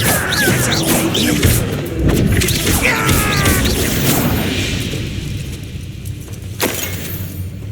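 Confringo blasting spell in Hogwarts Legacy, loud crashing booms and whooshing bursts in the first few seconds, then a rumbling decay and another sharp hit near the end.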